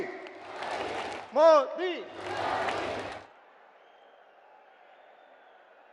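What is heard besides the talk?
crowd applauding and cheering at a political rally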